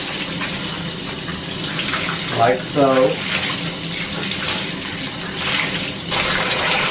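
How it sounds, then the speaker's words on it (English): A wet tie-dyed shirt is squeezed and wrung out by hand, releasing a steady gushing splash of water and excess dye, like water running into a tub, with a brief spoken remark partway through. "So you just want to take the shirt, get it wet, and just squeeze it to get all the extra dye off of it."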